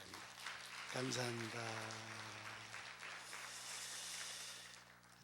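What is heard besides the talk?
church congregation applauding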